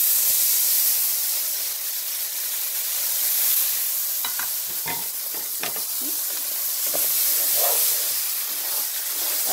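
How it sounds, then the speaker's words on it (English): Tomato sauce poured into Spanish rice in a hot pan gives a steady broad sizzle and hiss, with a few short stirring scrapes and clinks partway through and no voices. "To this now, I'm going to add my tomato sauce."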